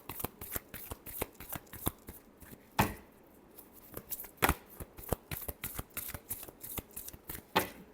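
Tarot cards shuffled by hand at close range, a quick series of crisp slapping riffles and taps in a fairly steady rhythm, clear and alone with no talk.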